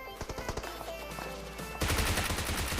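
Rapid automatic gunfire in a mobile battle royale shooter, a burst of sharp close shots that thickens into a louder, denser volley partway through, with no talking.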